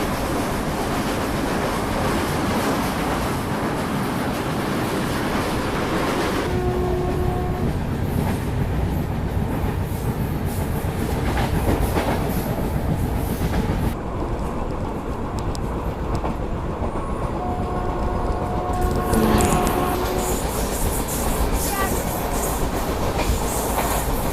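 Indian Railways train running on the tracks from Katra towards Haridwar, a loud continuous rumble with rhythmic clickety-clack of wheels over rail joints, steady throughout with a brief tonal squeal.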